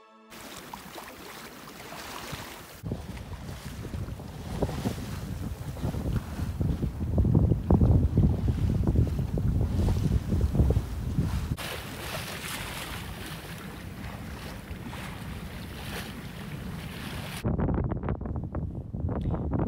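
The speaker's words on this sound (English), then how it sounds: "We had a sporty sail out of Myra Bay and into the Manadu Passage" A sailboat heels through brisk wind out of Myra Bay, with loud gusty wind buffeting the microphone over rushing water and waves along the hull, continuous throughout.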